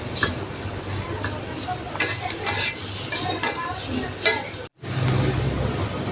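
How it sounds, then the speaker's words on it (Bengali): Chopped onion and green chilies fry in a pan, a soft steady sizzle broken by several sharp clinks and scrapes of a stirring spoon, with one brief drop to silence near the end. "দিয়ে দিব কাঁচামরিচ কুচি, দিয়ে নেড়ে চেড়ে হালকা বাদামি কালার করে ভেজে নিব।"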